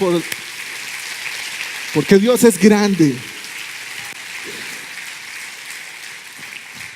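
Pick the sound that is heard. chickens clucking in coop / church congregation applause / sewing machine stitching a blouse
church congregation applause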